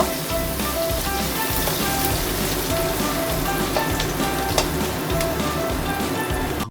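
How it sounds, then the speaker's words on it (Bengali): Chopped onions fry in a pan with very little oil while a mutton dish is being cooked, giving a steady, close sizzle with crackling that holds for the whole stretch. "এবার দেবো পেঁয়াজ কুচি, এটা একটু ভেজে নেব।"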